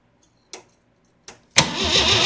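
An old Jeep CJ7 engine gives two short starter cranks, then catches on the third try and settles into a loud, rough, steady running rumble close by.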